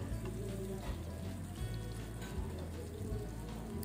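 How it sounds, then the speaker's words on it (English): Breadcrumb-coated fish fillets frying in hot oil, a steady close sizzle with dense crackling and popping that runs continuously throughout. "dip it on breadcrumbs and fry it in hot oil"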